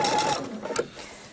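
A home sewing machine runs steadily while stitching an apron, its motor whirring loud and close before slowing and halting, then a brief mechanical clunk as it stops with the needle down.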